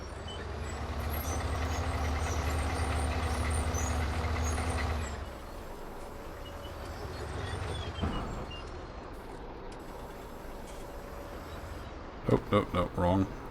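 A New Holland tractor in Farming Simulator 19 on a mountain road, its engine droning loud and close for five seconds before dropping to a lower idle hum, with a short burst of clanking near the end.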